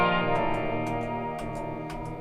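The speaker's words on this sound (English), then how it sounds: "when you tap the tap switch, it kind of does this analog-y thing where it kind of freaks out a little bit." A Strymon Brigadier analog delay pedal glitches after its tap tempo switch is pressed, giving a dense, smeared guitar wash with repeated bursts and warbling echoes that stay loud and steady throughout, with no talking.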